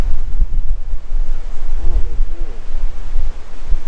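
Strong wind roars across the microphone at an oceanfront hotel in Fort Lauderdale, a steady gusty rush with a faint voice briefly audible underneath.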